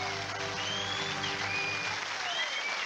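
A studio audience on the 1998 television show This Is Your Life cheers and applauds steadily, a soft, distant wash of clapping with a few thin whistles rising above it.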